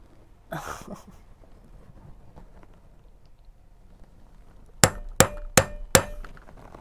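A hammer strikes a metal stamp on a pendant four times in quick succession, sharp bright clangs near the end after a brief rustle and quiet room tone.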